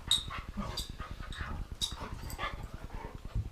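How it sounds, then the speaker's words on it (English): Dogs whimper and let out short yips and barks in quick, uneven bursts, fairly faint and close, over a steady low rumbling background. "sorry about the dogs"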